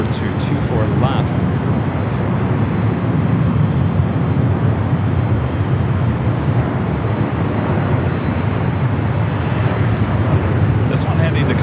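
Steady, loud roar of a Delta airliner's engines at Los Angeles International Airport, a continuous broad rumble filling the whole stretch with no break.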